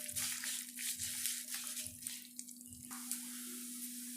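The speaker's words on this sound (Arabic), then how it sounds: "هبتدي احمر الشعريه، واول ما تبتدي تخش على اللون الذهبي الفاتح هنزل البصله في نفس الطاسه" Vermicelli and onion frying together in a pan make a soft, fairly faint sizzle with a low steady hum beneath and a few rhythmic stirring scrapes.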